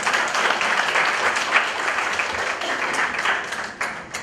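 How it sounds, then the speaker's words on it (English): Sustained audience applause at a Mumbai wellness expo, a steady dense wash of many hands clapping for about four seconds, fairly loud and without speech. "A round of applause for this line."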